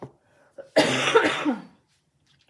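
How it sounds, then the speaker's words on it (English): A single burst of harsh, close coughing lasting about a second, preceded by faint soft sounds and followed by silence. "I apologize for coughing."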